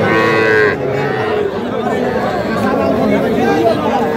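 A Sahiwal heifer calf about three months old moos loudly at a busy cattle market near Aftabganj, one strong call at the start followed by steady crowd chatter and other livestock around.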